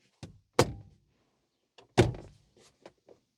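Armrest trim is knocked onto a Nissan Micra K11 door card with two solid, sharp thumps a little over a second apart. A few lighter taps and knocks follow in an otherwise quiet space.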